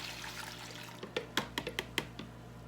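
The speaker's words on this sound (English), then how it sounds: "I'm gonna pour my milk in" Milk is poured into a mixer bowl fitted with a paddle, heard as a soft rush followed by a quick series of close splashy glugs.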